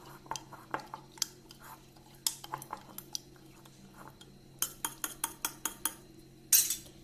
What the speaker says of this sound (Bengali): এবার ভালো করে এই গুঁড়োগুলো এর মধ্যে মিশিয়ে নেব।